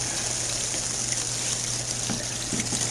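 Cold tap water gushes steadily over cooked macaroni noodles in a kitchen sink, a continuous close hiss and splash with no talking.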